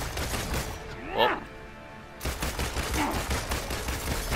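Gunfire from the Marvel's Avengers video game: a couple of brief bursts of shots, the first sharper with a rising whoosh, then a denser rattling stretch after a short lull, fairly loud with game noise around.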